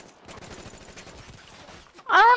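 Rapid automatic gunfire in Call of Duty Black Ops III crackles steadily in quick bursts, then ends in a sudden, much louder close burst.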